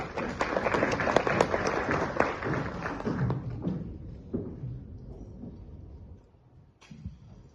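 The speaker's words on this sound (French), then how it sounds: "Merci, sous vos applaudissements." Conference audience applause welcomes a speaker, a burst of claps that thins out and fades over several seconds, leaving near-quiet with a single late knock.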